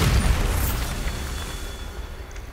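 A Bombarda explosion spell in Hogwarts Legacy bursts with a loud boom up front, then rumbles and fades into a long decaying tail, with no voice.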